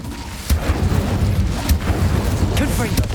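Incendio fire spell cast in the Hogwarts Legacy video game, a loud, close burst of booming, crackling flame with sharp thumps, under ongoing game sounds.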